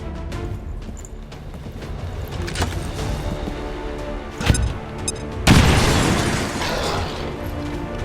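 A bomb goes off in XCOM 2 — a sharp booming blast at mid-clip followed by a louder, broad rumbling detonation that lingers over game ambience.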